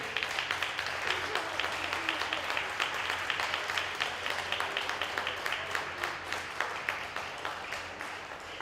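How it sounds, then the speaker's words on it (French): A cabaret audience at a Télévie charity event in Orp-Le-Grand gives the volunteers a long round of applause, dense sustained clapping with steady rhythmic accents, as if clapping in time. "j'aimerais un tonnerre d'applaudissements pour tous ces bénévoles"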